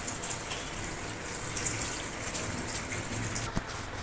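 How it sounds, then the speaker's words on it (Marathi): Water is poured into paneer cooking in its masala, a steady close gushing splash that lasts throughout with small bumps and clinks. "याच्यामध्ये थोडं मी पाणी घालून हे शिजू देते"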